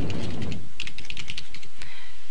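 Rapid typing on a computer keyboard, a quick flurry of close, crisp key clicks lasting a couple of seconds, with no talking.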